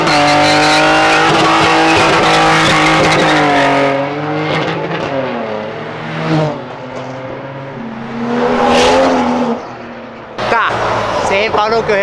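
An orange Jaguar accelerates hard along Avenida Europa, its engine revving loudly and climbing through several gear changes in a rising and falling roar, close by, with people talking over it.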